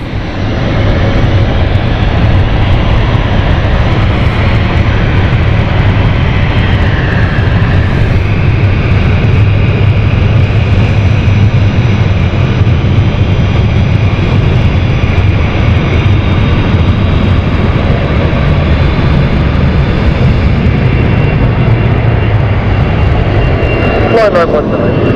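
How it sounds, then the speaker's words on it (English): A passenger jet on the Edinburgh flight powers up for takeoff at London City Airport, a loud, sustained engine roar holding steady throughout with a brief rise in pitch near the end. "Waiting to take off at the moment is the Edinburgh flight."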